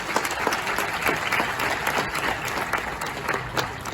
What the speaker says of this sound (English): I'm not convinced with this applause of yours